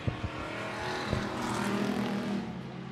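Thunder Stock race cars roar down the back straightaway at I-76 Speedway on the final lap, a dense sustained engine drone that swells as the pack passes, heard at moderate distance.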